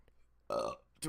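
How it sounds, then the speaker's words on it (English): A single loud, close burp lasts about a quarter of a second, with faint sounds of a voice just before and after it. "I'm burping a lot."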